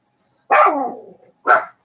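A small dog barks twice nearby, one longer bark trailing off and then a short sharp second bark after a brief pause, in an RV setting with no talking.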